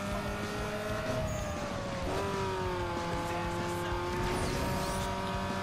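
Race car engine in Need for Speed Underground 2 as nitrous kicks in, a loud steady whine whose pitch climbs and shifts between gears, with faint tire noise underneath and no talking.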